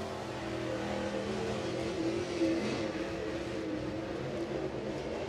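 A GM-powered crate race car on a CVR chassis runs at a dirt speedway during qualifying at Crossville, its engine droning steadily and loud throughout with a slight swell midway, no talk over it.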